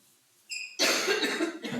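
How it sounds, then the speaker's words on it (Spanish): A brief chirp of another sound, then a loud, harsh cough burst close to the microphone, followed by a second, smaller cough. "Un poco de tos."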